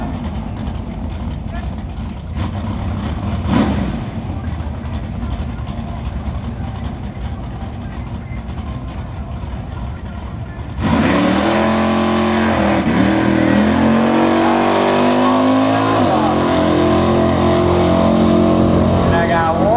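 A drag racer in the X275 class makes a qualifying pass at MIR, its engine snarling loud and close with revs rising and shifting while an announcer talks over a crowd rumble.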